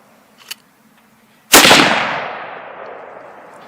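A single loud rifle shot from a Weatherby Vanguard cracks at close range and rings out in a long fading tail, after a faint click just before it.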